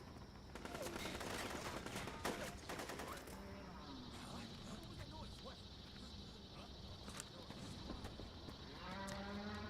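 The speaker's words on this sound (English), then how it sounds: "So that's why they moo and chirp like cicadas." Enemy soldiers in Metal Gear Solid 4 mooing like cattle amid bursts of gunfire and chaotic battlefield noise, with a high whining tone entering partway through and voices mixed in.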